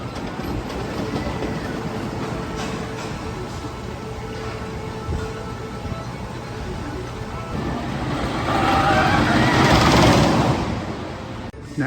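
A steady rumbling roar of a coaster train running on its track at Holiday World amusement park, swelling louder toward the end amid outdoor noise.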